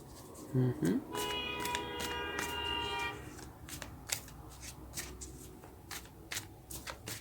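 Tarot cards are shuffled in a quick riffling burst, then handled and drawn with soft scattered taps and slides, close and fairly quiet, with a voice faintly present.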